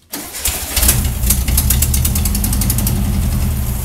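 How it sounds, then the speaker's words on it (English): A 1969 Volkswagen Beetle engine with exhaust leaks cranks and catches almost immediately, then settles into a loud, rough idle with a steady rumbling pulse. "Do you see how fast it starts up?"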